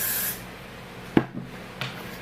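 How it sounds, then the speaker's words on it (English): Hairspray hisses from an aerosol can onto styled hair for a bubble ponytail, one short close spray at the start followed by faint handling rustles and soft taps. "going to spray it a little."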